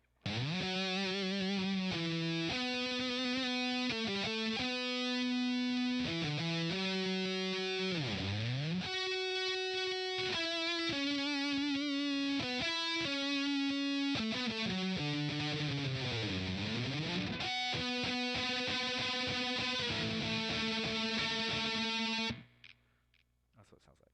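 A distorted electric guitar solo from a song plays loud and alone, bending and sustained notes with sliding pitch sweeps, ending abruptly near the close.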